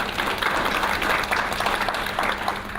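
Audience applause at an online graduation ceremony in Melbourne, a dense, even wash of many hands clapping, moderately loud and sustained throughout, with no talk over it.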